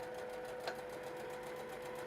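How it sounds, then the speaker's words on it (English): A sewing machine stitches a rolled tuck hem along the bottom of a curtain, held under tension. It gives a steady, close mechanical whir with one small bump partway through, and no voices. "holding some tension and running the sewing machine over it"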